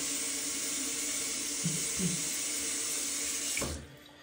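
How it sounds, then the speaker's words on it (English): Water runs steadily from a bathroom sink tap during face washing before shaving, a constant close hiss and splash with a few hand splashes, then stops near the end. "All right, let's wash the face."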